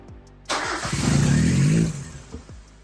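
A replacement engine cranks, then catches at about half a second and roars under throttle for well over a second before dropping back and sputtering as it dies out, with a few faint clicks afterward.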